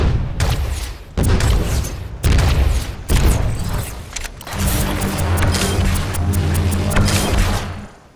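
Zarya's energy grenade launcher firing in Overwatch, a series of loud, regularly spaced booming blasts followed by a sustained humming charge with rapid repeated shots.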